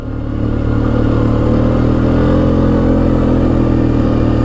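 A 1996 Polaris Sportsman 500 ATV engine drones loud and steady while riding, a constant low rumble with a mechanical rattle layered on top.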